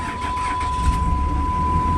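A 2006 Dodge Ram two-wheel-drive truck with a worn 5.9 Cummins diesel showing heavy blow-by cranks and fires up, settling into a close, steady idle rumble with a thin constant tone above it.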